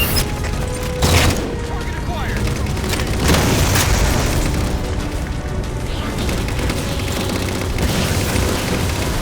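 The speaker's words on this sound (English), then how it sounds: "Target those phantoms for the railgun to shoot down." The railgun fires at Phantom dropships in Halo 4, heavy booms and blasts rolling out over a dense, constant wash of battle noise and explosions.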